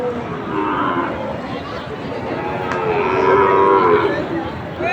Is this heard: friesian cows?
yes